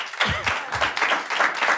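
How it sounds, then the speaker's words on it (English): Audience members clap at a committee meeting, a short patter of scattered hand claps in a room, moderately loud and uneven, with faint voices mixed in. "They were clapping, so we didn't hear you."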